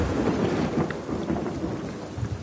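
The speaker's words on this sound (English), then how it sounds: "Thunder sounds are cool." Thunder rumbles with steady heavy rain in The Last of Us Part 2, a dense continuous storm wash with low rolling booms throughout, no voices.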